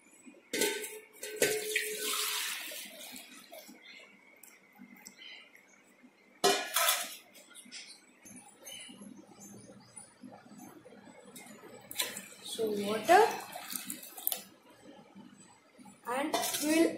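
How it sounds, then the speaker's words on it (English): Water poured from a tap or jug into a bowl while preparing to wash a conch shell, splashing in a few bursts with soft clinks of the dish, under a person talking. "pour some water"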